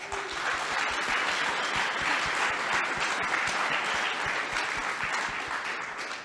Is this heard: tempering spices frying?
no